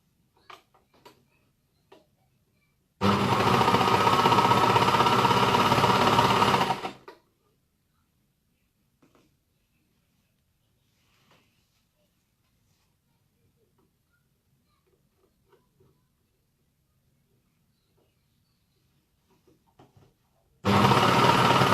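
A sewing machine stitches elastic in a steady run of about four seconds, starts again briefly at the end, and leaves quiet gaps with faint handling noises in between.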